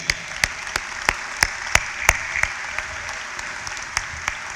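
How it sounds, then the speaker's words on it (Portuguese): A church congregation claps in steady unison at a worship gathering, with sharp, evenly spaced beats roughly three per second. The claps ring over a faint sustained tonal backdrop, and the rhythm loosens slightly toward the end. "Vamos aplaudir ao Senhor Jesus."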